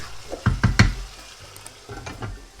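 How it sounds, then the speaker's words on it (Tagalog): Chicken pieces browning in a pan for a chicken with liver spread recipe sizzle up close, broken by a few quick loud stirring scrapes and a second burst of stirring toward the end. "iba-brown lang natin yung ating chicken"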